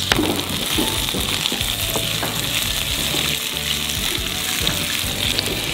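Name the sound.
fennel and carrots frying in ghee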